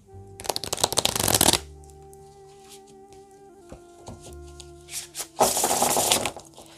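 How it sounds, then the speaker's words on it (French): Oracle cards shuffled in two loud, close riffling bursts, separated by a quieter pause with faint handling and a steady background tone. "On retire un petit peu les cartes oracles."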